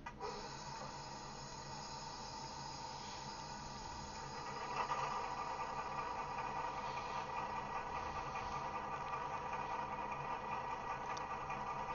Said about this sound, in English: I'm just going to do an engine startup for you.